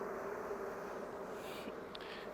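Honeybees buzz steadily, fanning their wings with abdomens raised, a close, continuous drone with a few sharper individual buzzes near the end.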